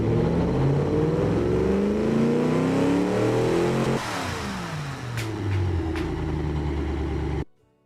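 Car engine revving in a car designer video game set in the 1960s, a loud sustained roar with rising and falling pitch sweeps, a shift partway through, then an abrupt cut to silence near the end.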